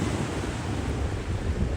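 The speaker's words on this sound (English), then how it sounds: "Love the sound of the waves." Ocean waves break on the beach at Coney Island in Brooklyn, a continuous close wash of surf mixed with wind buffeting the microphone.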